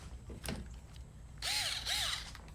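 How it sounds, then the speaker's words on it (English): Power drill boring a hole through a skeleton model's foot, two short rising-and-falling whines close up, each lasting about a quarter second, with quiet pauses around them. "I'm going to take the metal pin out, drill my hole, and just use a screw"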